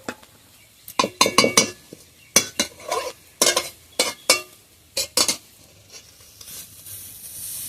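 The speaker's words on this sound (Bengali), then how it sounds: "এবার আমি একটা প্লেটে ঢেলে নেব" Fried ghetkul leaves are scraped and poured from a pan onto a plate, heard as a series of sharp metallic scrapes and clinks in irregular bursts, close and fairly loud, with no talking.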